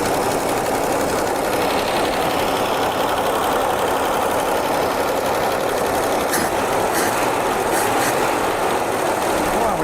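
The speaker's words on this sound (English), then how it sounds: "I'm gonna see if it'll rev from the inside." An abandoned 1976 AMC Pacer, started for the first time in 20 years with a sticking choke, revs and runs in a loud, steady mechanical drone with a few sharp rattles partway through.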